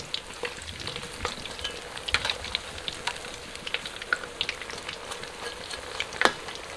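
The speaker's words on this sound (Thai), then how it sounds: "นี่นะครับทอดจนเหลืองกรอบแบบนี้เลยเนี่ย" Enoki mushrooms deep frying in hot oil until golden and crispy, giving a dense, continuous crackling sizzle with sharp pops scattered throughout. The sound is close and moderately loud.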